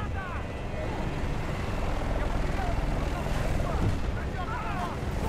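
Helicopters in the Battlefield Bad Company 2 campaign drone with a low, rumbling rotor thrum under a busy game soundscape, steady and fairly close, with scattered chirps and effects layered on top.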